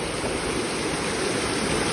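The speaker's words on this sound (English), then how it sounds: "isn't this like one of the most pathetic waterfalls you've ever seen?" A small creek waterfall pours in a steady, dense rush of water, loud and close, with no voices over it.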